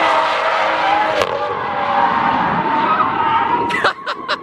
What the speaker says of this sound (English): Range Rover supercharged drifting.